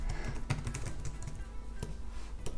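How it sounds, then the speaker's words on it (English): Typing on a portable iPhone keyboard, a quick run of light key clicks in an irregular rhythm, close and fairly soft. "If I just type hello"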